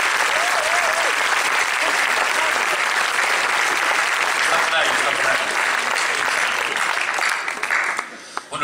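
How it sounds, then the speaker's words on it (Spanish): Sustained, dense applause from a crowd at a political rally in La Laguna, Tenerife, filling the space for about eight seconds before tapering off at the end. "Os pido un aplauso para él."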